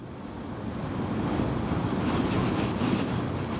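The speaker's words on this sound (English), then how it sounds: "Too bad we can't fly the drone today. It's really too windy." Strong wind blowing over the Westerschelde estuary with waves and surf washing steadily, a continuous roaring broadband rush that swells slightly and stays loud throughout, with wind buffeting the microphone.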